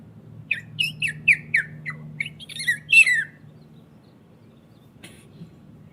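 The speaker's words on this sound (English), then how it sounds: "Next, the purple martin." A purple martin gives a rapid series of clear, throaty chirps and gurgling notes over about three seconds, close and distinct above a low background rumble.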